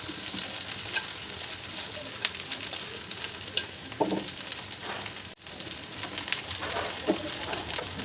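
Chopped ridge gourd is added to potatoes frying in a pan, producing a steady sizzle with clicking stirs and scrapes, a short drop in level midway, and faint bird calls behind.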